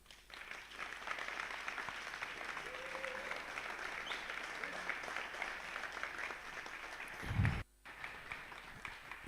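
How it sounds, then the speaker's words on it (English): A crowd applauds the winning teams at a hackathon final, sustained, even clapping from a sizeable audience that rolls on for several seconds before cutting off abruptly near the end. "We had 12 winning teams here, and they all deserve a very warm applause."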